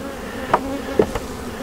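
Honeybees buzzing steadily around an open hive during a brood nest check, a close, continuous drone with a couple of brief louder passes near the listener.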